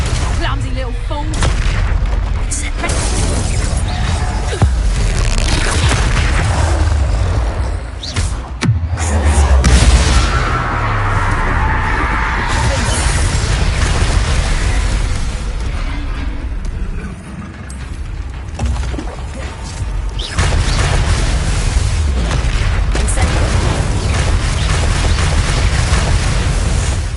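Confringo and Reducto spell blasts in Hogwarts Legacy boom out as loud explosive bursts over dense combat noise, with spoken incantations and character voices throughout.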